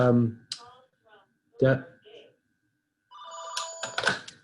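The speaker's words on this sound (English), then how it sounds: "geez, my phone's ringing" A phone rings during an online discussion panel, its electronic ringtone chiming near the end after people speak, fairly close and clear.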